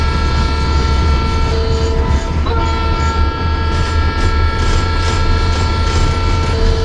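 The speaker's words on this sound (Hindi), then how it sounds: "यहाँ पर एक लोकल ट्रेन का एक और बार अराइवल तुम्हें मैं दिखा रहा हूँ हावड़ा जंक्शन पर" Local train arriving at Howrah Junction in Trainz Simulator 12, a loud continuous rumbling roar of the rolling train with steady tonal hum and a faint horn-like tone, no talk.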